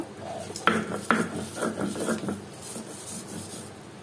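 Skinned taki fish mashed with salt into a paste for bhorta, close grinding and rubbing strokes against a stone or dish with a few sharp knocks, no voices.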